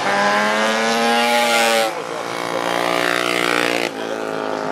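Vintage racing motorcycles at a retro road-racing round at Biķernieki track, loud high-revving engines sweeping up through the gears with sharp shifts and a brief drop between pulls, close and continuous.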